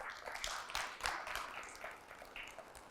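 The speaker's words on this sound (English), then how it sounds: "A round of applause to each one of you, especially our graduates." Scattered applause for graduates at a virtual graduation ceremony, faint and thin with irregular claps spread across a few seconds.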